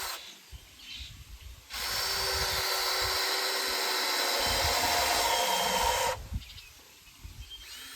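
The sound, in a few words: driving screws into pallet wood with a power tool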